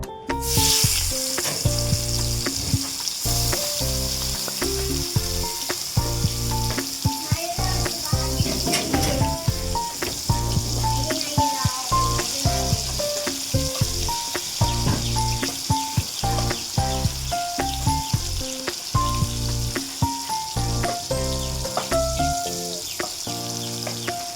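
Food frying in a home kitchen pan during a birthday cooking session, a loud continuous crackling sizzle with spitting pops and occasional stirring, lasting throughout with faint background tones.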